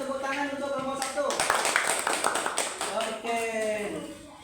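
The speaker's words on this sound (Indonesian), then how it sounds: "semuanya tepuk tangan untuk kelompok 1" Classroom students clap for a presenting group, a short burst of scattered applause rising in the middle while a teacher keeps talking over it.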